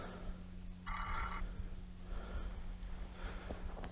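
A mobile phone rings outdoors during a trip to catch live bait fish: one short, bright electronic ringtone burst of about half a second against quiet background noise.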